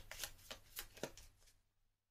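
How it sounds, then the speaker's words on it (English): A card-game encounter deck is shuffled close by, several soft riffling bursts in quick succession, quiet and papery, fading out at the end. "We'll just shuffle up the encounter deck."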